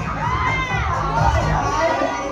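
A crowd at a black-themed gala at Dreamland Resort cheers and shouts in a dense, lively roar with high excited voices, sustained and fairly close throughout.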